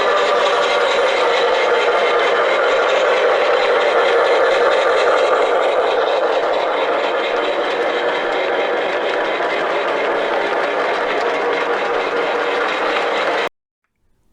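Model railroad train rolling past on the layout track with a steady, continuous rumble and clatter that fills the stretch, then cuts off abruptly at the end.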